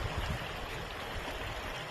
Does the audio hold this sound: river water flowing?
yes